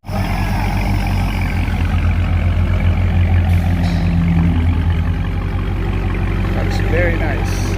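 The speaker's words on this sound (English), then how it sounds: "the tone of the exhaust changes because of it" A deep supercharged V8 of a 2021 Dodge Charger Hellcat Widebody idles steadily with a low rumbling exhaust burble, close and continuous, with faint voices in the background.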